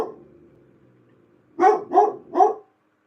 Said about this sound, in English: then my guard dog starts guarding